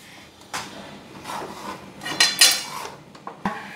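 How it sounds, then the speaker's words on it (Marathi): Ground shev mixture for shev laddoos is sifted through a sieve at home, giving intermittent metallic taps, rattles and scraping rubs, close and fairly sharp, with no talking. "हे पाहिजे आता मी चाळत आहे."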